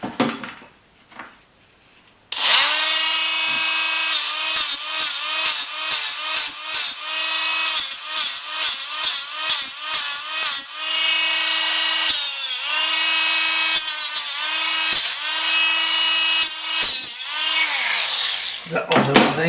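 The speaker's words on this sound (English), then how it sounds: "We have to get the Dremel on it." A Dremel rotary tool grinds a signal generator part in loud, high whining bursts that stop and restart repeatedly, with brief pauses between passes and a quiet moment before it starts.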